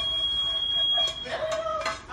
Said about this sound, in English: Like every single time I cook, I set off fire alarms.